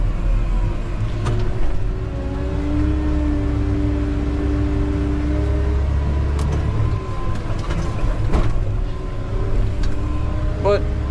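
A Caterpillar 908M compact wheel loader works in first gear with eco mode off, its diesel engine droning steadily and close throughout, with faint clanks and a few brief bursts over the hum.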